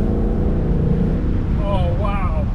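Ford Mustang GT convertible driving down a narrow road, its engine giving a steady loud low rumble throughout, heard from inside the open car, with a person talking over it.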